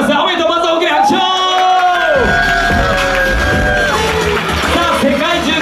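A crowd at a competition award announcement cheers, whoops and shouts loudly and close, with voices rising and overlapping in sustained excitement.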